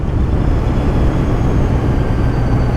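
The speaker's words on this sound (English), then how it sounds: "Listen to this engine bog." A motorcycle engine lugs at low revs, around 2,000 RPM, through a steep turn, giving a loud, continuous low drone mixed with wind rush and no talking.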